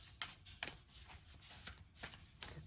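Tarot cards shuffled by hand in quick riffling bursts, several papery flutters spaced about half a second apart, close and fairly soft with no talking.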